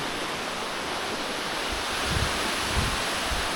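Waterfall pouring over Çal Cave near Düzköy, Trabzon, a steady broadband rushing roar that stays loud and continuous throughout, with a few low thumps of wind buffeting the microphone and no talk.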